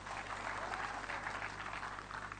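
An audience applauds at a gathering, a steady, fairly distant patter of clapping that holds throughout without a clear start or end.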